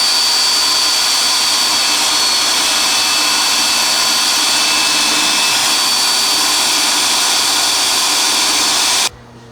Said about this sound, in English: We're going to go ahead and drill out the rest of these rivets just like we're doing here.